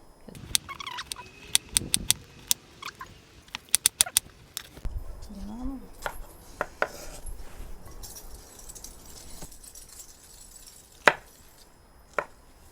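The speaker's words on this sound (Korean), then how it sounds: "먹기 좋은 사이즈로 잘라볼게요" A knife chops pork for sweet and sour pork on a cutting board in irregular sharp taps, some quick bursts and some spaced out, with faint background murmur.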